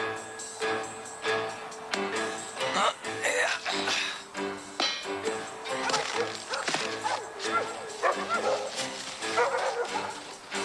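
Several dogs bark and yip excitedly in overlapping bursts, with whimpers and clattering mixed in over busy background sound.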